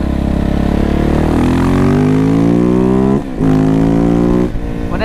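A KTM SMC R 690 single-cylinder motorcycle engine revs loudly while riding, rising in pitch, cutting briefly as the gear changes, then climbing again, very close and dominant.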